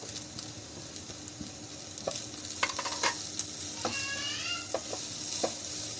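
Chicken pieces with dry spices sizzle and fry in a pan while a spoon stirs them, with scraping clinks and steady crackling throughout, close and moderately loud, no talking.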